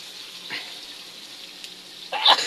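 Sinni frying in a pan for Muharram, a quiet steady sizzle with a few soft stirring scrapes and a louder crackle near the end.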